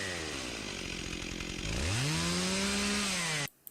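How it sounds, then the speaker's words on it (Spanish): An enemy's chainsaw from the video game Resident Evil 4 drones loud and close, its engine revving higher partway through before cutting off abruptly near the end. "La motosierra del tipo de Resident Evil 4."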